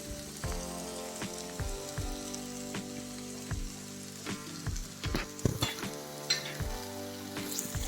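Sliced ridge gourd frying in a pan while a spoon stirs it up and down, soft sizzling under repeated close scraping and clinking strokes of the spoon against the pan.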